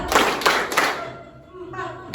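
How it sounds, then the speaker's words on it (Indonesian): Hands clap in a counting clapping game: three quick, sharp claps close by in an even rhythm, then a voice speaking over quieter background noise. "Tepuk 1, tepuk 2, tepuk 3,"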